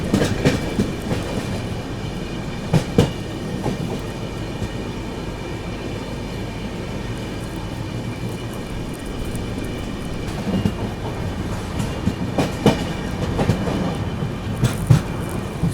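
The Maharashtra Sampark Kranti Express passes slowly through Valsad railway station, its wheels clattering in a continuous rumble, with periodic clicks and knocks from rail joints.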